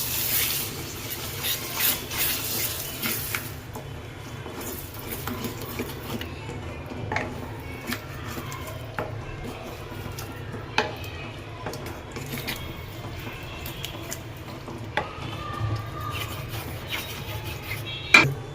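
A bowlful of yogurt is stirred into a simmering kaju fulwadi curry over low heat, a soft scraping and rubbing of a spoon against the pot with occasional light clinks, close and fairly quiet.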